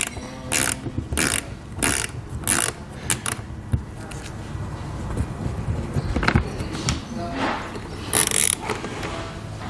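A driver bit backs out screws on a 2017 Audi Q, giving bursts of whirring ratchet-like mechanical grinding with short pauses between them, close up and with no talking.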